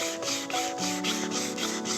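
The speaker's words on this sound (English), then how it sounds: "You don't want the wood rocking around while you're running the sandpaper over it" Sandpaper rubbed back and forth over a flat wooden base, a steady close scratchy swish in even repeated strokes with no pauses and no voices.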